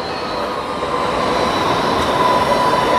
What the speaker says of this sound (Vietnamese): Lại thêm một cái tàu điện tiếp tục chạy.